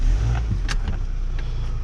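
A 2000 Toyota Camry engine idles and is given a slight touch of throttle, a close, steady low rumble with faint clicks and no talk.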